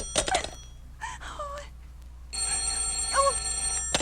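A telephone bell rings in an old radio drama, short sharp bursts of ringing spread across the moment, close and clear, with a voice briefly heard between the rings.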